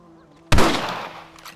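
Single sharp rifle shot in the game Red Dead Redemption, a loud close crack that rings out and fades over about a second, with a faint second report near the end.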